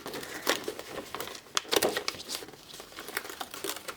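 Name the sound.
peeling cut paper away from a Brother ScanNCut mat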